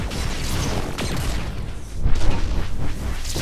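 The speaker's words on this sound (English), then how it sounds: "No, that's definitely a tank." Tank cannon fire rumbles in the video game Saints Row IV, a loud continuous barrage of booming blasts swelling midway, with no speech.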